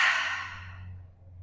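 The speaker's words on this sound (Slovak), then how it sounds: "voľný výdych cez ústa" A slow, soft exhale through the mouth during a guided breathing exercise, a single breathy release that fades gradually over about a second, heard alone without talk.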